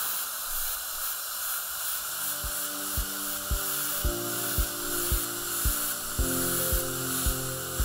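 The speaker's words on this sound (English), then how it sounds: "This is a silicone impregnated polishing brush. And it will polish without removing texture." A silicone-impregnated polishing brush on a dental handpiece polishes an OMNICHROMA composite restoration, giving a steady faint high whine and hiss broken by a regular series of soft clicking pulses, with no talking.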